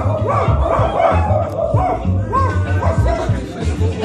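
People at a furry convention dance contest imitate dogs barking "gav", a string of rhythmic, close, loud voiced woofs repeated by several voices, with crowd chatter and speech around them.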